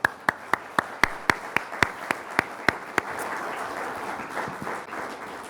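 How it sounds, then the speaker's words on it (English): Audience applause at a university center launch celebration, opening with a dozen evenly spaced loud claps that give way to a dense wash of clapping from many hands. "Yes, applause."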